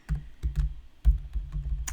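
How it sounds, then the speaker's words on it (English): Fingers tap on a small computer keyboard in short, irregular clusters of keystrokes, close by and soft, with no talking. "I don't like the keyboard because it's too small."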